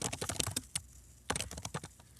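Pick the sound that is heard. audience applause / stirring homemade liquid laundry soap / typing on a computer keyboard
typing on a computer keyboard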